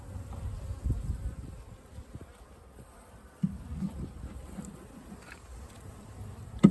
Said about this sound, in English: apparently I just smushed a couple bees. And they don't like it now.